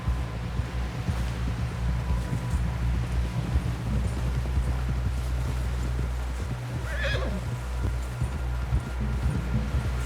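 Horse hooves clip-clop steadily through the whole stretch in Red Dead Redemption 2, with a neigh or whinny and a low rumbling bed underneath, loud and close.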